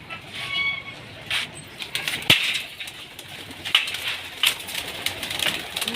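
Pigeons coo and flutter nearby during a vaccination session, with soft repeated cooing calls, a few wing flaps and light clicks under a busy background.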